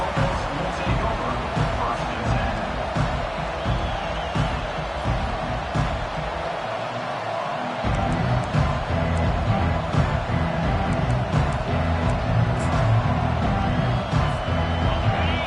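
A college football video game crowd, Michigan versus Auburn, roars and cheers continuously in a stadium, swelling louder partway through, with a commentator's voice talking over the noise.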